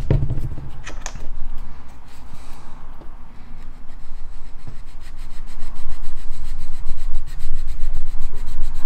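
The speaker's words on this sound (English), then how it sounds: "carefully try and clean this up with a good sanding stick" Close, steady rubbing and scraping of a sanding stick on a model Litening pod part, with a gritty rhythmic texture that grows slightly louder toward the end.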